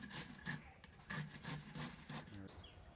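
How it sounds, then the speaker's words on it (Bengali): Peeled carrots are rubbed over a hand grater in a kitchen, producing a quick series of close, rhythmic scraping strokes with brief pauses between them. "ছাড়িয়ে রাখা গাজরগুলো আমি এরকম করে ঘষে নিচ্ছি।"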